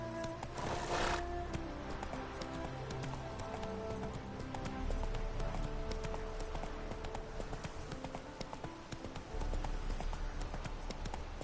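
Hooves of Roach, the horse in The Witcher 3, pound in a fast continuous clip-clop gallop, close and prominent, with a short whinny-like burst near the start and game music underneath.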